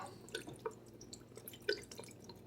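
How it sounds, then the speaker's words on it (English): Worcestershire sauce splashes into a pot of sausage and kale soup, several faint, scattered drips and small liquid plops at close range. "we'll give this a couple splashes, maybe about 2 tablespoons or so of Worcestershire."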